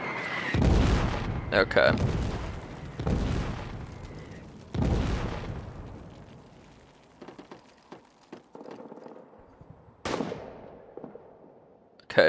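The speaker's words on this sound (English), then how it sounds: "they're shooting at us with all their guns" Gunfire rings out in a WWI trench video game as loud, sharp shots and heavy booming reports in irregular bursts, some close and strong, others fainter and more distant, with brief speech in between.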